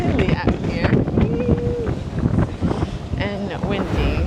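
Gusty, chilly wind buffets the microphone with a steady low roar on the deck of the cruise ship Norwegian Encore in Alaska, while people talk nearby throughout.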